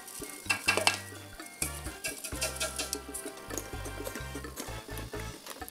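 A spoon scrapes and clinks around a bowl as curd cake batter with flour, baking soda and baking powder is mixed, in repeated rhythmic strokes with metallic taps, close and fairly quiet.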